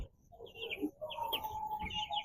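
Eight-day-old broiler chicks in a poultry pen give soft, high chirps and peeps in short overlapping bursts, faint and fairly close.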